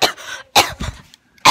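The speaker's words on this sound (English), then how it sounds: "Coughing." Three short, harsh coughs in a row, close and loud, separated by brief silences.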